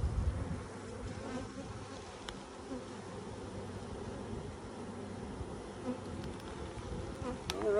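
A dense, steady drone of honey bees buzzing around an open hive during an inspection, close and continuous, with no voices.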